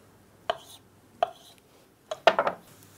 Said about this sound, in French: je vais pouvoir découper mes Saint-Jacques en morceaux